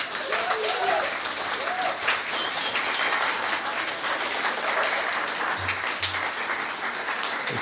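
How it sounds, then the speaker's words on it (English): An audience at a music evening applauds a singer with sustained, dense clapping that fills the room steadily from start to finish, with faint crowd murmur beneath. "let's all have a round of applause for Mr."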